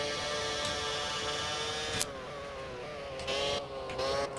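A Renault Formula 1 car in the GP4 racing game with a steady high engine whine and layered harmonics, pitch dipping and rising through gear changes, close and alone without talk.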